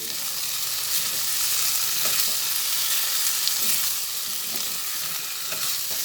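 Kochur loti (taro stolons) cooked with onion and garlic fry in a pan after a spoonful of sugar goes in, giving a loud, dense, continuous sizzle with soft stirring scrapes throughout and no talking.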